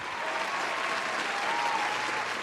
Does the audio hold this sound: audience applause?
yes